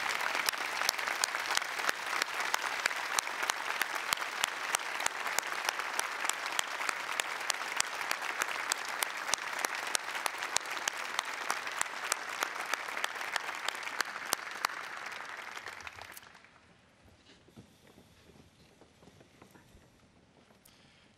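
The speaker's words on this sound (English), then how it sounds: "Please stand and give Governor Perdue a round of applause to thank her for her public service." A standing crowd at an outdoor North Carolina governor's inauguration claps loudly for the outgoing Governor Perdue, a dense sustained ovation lasting about sixteen seconds before it drops away to quiet murmur.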